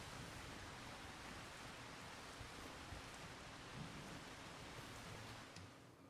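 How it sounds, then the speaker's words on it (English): Steady rain in the Farming Simulator 25 logging game, a constant broadband hiss of downpour with faint low rumbling, evenly loud throughout and without voices. "it started raining here"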